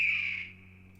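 Bald eagle cry in the Tex Murphy game Under a Killing Moon, a single piercing shriek that starts loud and close, then fades out within half a second over a steady low hum.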